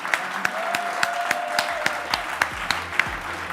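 Audience clapping at an on-stage moment, a broad steady patter of many hands with regular louder claps standing out close by and a faint tone underneath.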